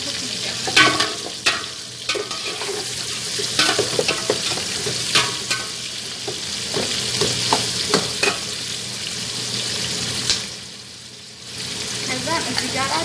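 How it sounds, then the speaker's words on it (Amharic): Two large onions fry in a pan and are stirred repeatedly, giving a constant sizzle cut by rhythmic scraping strokes; the frying dips briefly near the end, then returns. "አሁን እዚህ ጋራ ሽንኩርት ጨምራለሁ። ሁለት ትልልቅ ሽንኩርት ነው የጨመርኩት።"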